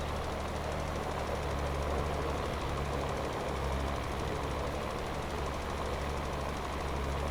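Tractor engine in Farming Simulator 22 working across a rocky field, a steady low idling rumble with a knocking, vibrating drone that holds evenly throughout, with no talk over it.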